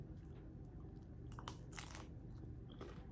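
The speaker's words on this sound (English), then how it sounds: "Did you hear that crunch?" A crisp crunch as teeth bite into a hot baked bacon, cheese and jalapeño roll, a couple of sharp crackling bursts over quiet chewing, close up.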